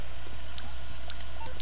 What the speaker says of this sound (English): Just spam the button to pull out your in-game phone